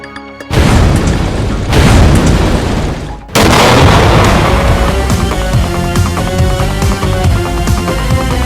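A voice mimics a bomb blast with a loud booming burst, a brief gap, then a second rumbling explosion that trails off with crackling debris.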